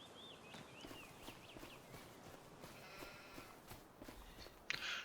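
Sheep bleat in a pasture in Farming Simulator 25 on the Castile and Leon map, a few wavering calls early on over soft footsteps and a murmuring farm ambience, with no talking.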